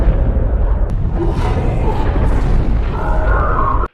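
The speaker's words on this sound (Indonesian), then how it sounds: "bunker milik Howard terbakar habis yang menyebabkan gudang di luarnya meledak." A shed explodes with a heavy, rumbling boom and sustained low roar, loud and continuous for about four seconds before cutting off abruptly.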